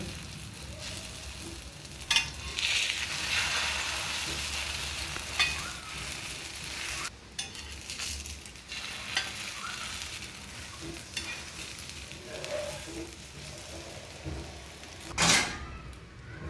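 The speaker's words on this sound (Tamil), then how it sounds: "இப்போ கலக்கி வச்ச அந்த முட்டையை ஊற்றுங்க." Beaten eggs spatter and sizzle on an oiled griddle for a scramble, with a close crackling hiss broken by repeated scrapes and clacks of a spatula stirring against the metal, and no voices.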